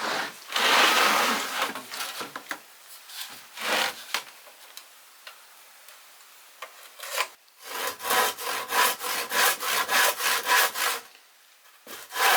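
Hand saw cutting wooden uprights for a framework in an old building, with bursts of rasping strokes that start irregular and settle into a steady back-and-forth rhythm, close and clear, with short pauses between.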